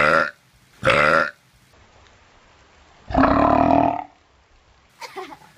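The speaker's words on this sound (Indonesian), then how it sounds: "Dan tadi gue sendawa." Outdoors on a hill in the Ciwidey tourist area near Bandung, a person lets out several loud, close burps: two short ones early, one long drawn-out belch in the middle and a weaker one at the end.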